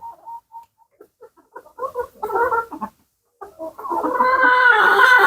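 Black hens give short, spaced clucks, then a rooster crows loudly and at length, the crow rising and holding near the end.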